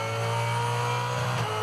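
Supercars race car engine roaring steadily from onboard Cam Waters' car at the Perth SuperSprint, a loud sustained drone with a brief swell near the end.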